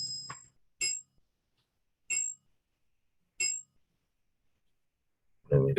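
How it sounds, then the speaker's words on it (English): A grandfather clock at home strikes three clear, ringing chimes, evenly spaced and each fading quickly into silence, before a voice starts speaking. "Granddad's clock is chiming, if you can hear it."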